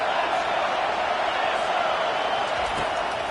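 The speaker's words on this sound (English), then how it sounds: "This crowd trying to make life miserable for this offense." Steady, dense roar of a stadium crowd at a college football video game between Georgia Tech and LSU, a constant loud wash of voices with no break, carrying on alone without commentary.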